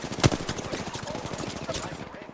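Rapid automatic gunfire in the Apex Legends battle royale game, a dense burst of close, evenly spaced shots running through the whole moment, with a voice line partly mixed underneath.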